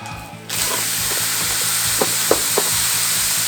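Thinly sliced pork belly hits a hot griddle and bursts into a loud, steady sizzle, with a few light scrapes and taps of a utensil over the frying.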